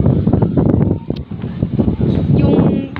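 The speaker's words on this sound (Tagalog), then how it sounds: "May hangin pala dito sa basketball court eh." Gusty wind buffets the microphone on an outdoor basketball court, a loud, uneven rumble that rises and falls over a few seconds with faint background activity.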